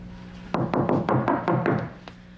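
A series of about seven firm knocks on a door, close and evenly paced, landing in a quick run with a faint low hum underneath and no one speaking.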